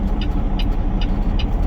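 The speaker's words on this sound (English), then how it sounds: "And these cars are going so fast behind me." Traffic roars by close to the roadside, a loud, continuous rush of fast cars and engines with rhythmic ticking bursts, heard without talk.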